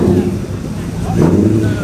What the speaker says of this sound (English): GT40's on the move